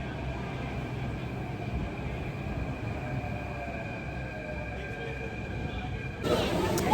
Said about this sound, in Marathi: हे बघा मेट्रोवाली आली दिल्लीची मेट्रो खूप गर्दी असते